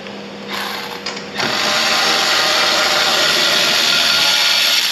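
A Milwaukee power tool runs out a brake caliper bolt on a 10th-generation Honda Civic during a brake job, starting with a brief whir and then a loud, steady high-pitched whine that holds to the end.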